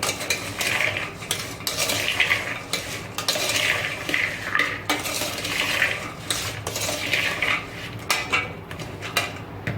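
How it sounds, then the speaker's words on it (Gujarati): Salt being mixed into peanuts in a bowl to make salted peanuts, heard as continuous rattling, scraping and clattering of the nuts against the bowl in rhythmic waves, close and with no voices. "આ રીતે બધું મીઠું મિક્સ કરી લઈશું."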